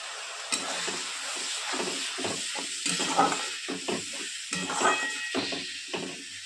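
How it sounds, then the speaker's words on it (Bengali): Spices being sautéed with garam masala powder and a little water, giving repeated scraping stirs in a pan with hissing sizzle and steam, rhythmic and close. "গরম মশলা গুঁড়ো। খুব ভালো করে কষিয়ে নেব। অল্প জল দিয়ে দিলাম।"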